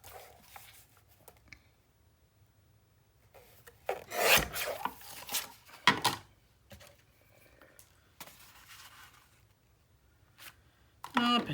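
Paper gears being trimmed for a Steampunk Spells 8 x 8 scrapbook mini album, soft rasping cuts in a few short bursts with quiet gaps, close and fairly faint, with a voice talking at times.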